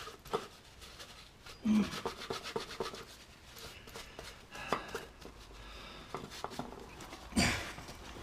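A scraper rubs and scrapes old sealant off the water pump mating face on a 2004 Vauxhall Corsa C. The scraping comes in close, irregular strokes with a few sharper knocks, and there is no speech.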